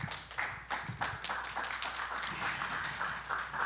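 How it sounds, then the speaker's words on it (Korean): Applause from an audience at a Korean stock-market outlook forum greets the incoming host, a steady wash of many hands clapping at moderate distance with no speech over it. "큰 박수로 맞아주시면 감사하겠습니다."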